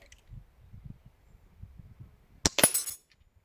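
A single sharp crack from a BSA Ultra CLX air rifle rings out after a few seconds of faint low rustling and handling noise, followed by a brief metallic ring-off.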